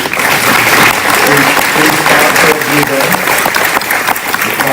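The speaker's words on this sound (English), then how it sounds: "let's give a round of applause to Salisbury University" An audience applauds for Salisbury University at a live event, a loud sustained roar of clapping from a sizable crowd with voices murmuring underneath throughout.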